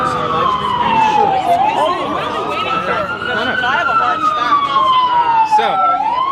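Ambulance siren wailing along a busy New York City street during a protest, its pitch sweeping down and back up steadily, loud and close, with crowd chatter and voices underneath.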